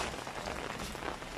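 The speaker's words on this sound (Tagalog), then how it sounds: "Wala eh, maulan eh. Hindi tayo makakagawa." Rain falls steadily outside, a soft, dense patter of drops heard faintly throughout the short stretch.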